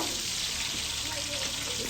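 Ginger and garlic sizzle and fry in an open kadai, a steady, dense crackling hiss that runs loud and unbroken throughout with no talking.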